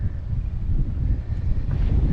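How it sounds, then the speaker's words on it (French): Gusty wind buffets the microphone at a seaside viewpoint overlooking the sea, a steady low rumbling roar throughout with no speech. "Alors par contre, il y a du vent."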